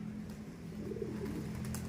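A pigeon gives a soft, brief coo near the middle, close by but quiet, over a steady background hum with no talking.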